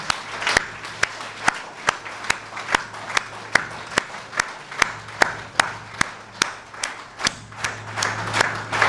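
Rhythmic, unison clapping from an audience at a memorial tribute, sharp regular claps about twice per second, accelerating slightly over nearly nine seconds, with a low hum beneath.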